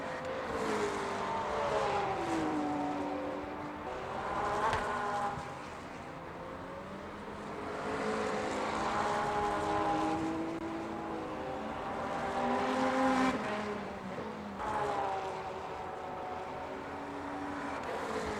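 Le Mans hypercars race past on the Sebring circuit in an endurance racing game, their engine notes droning and sweeping in pitch as several cars swell closer and fade away in repeated waves.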